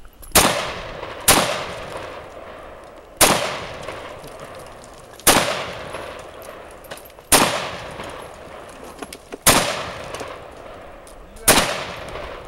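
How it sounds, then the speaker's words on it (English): An SKS rifle fired outdoors, loud sharp cracks spaced about two seconds apart, each followed by a rolling echo that fades before the next shot. "Squeeze off two or three real quick."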